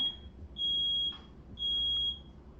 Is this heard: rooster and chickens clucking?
no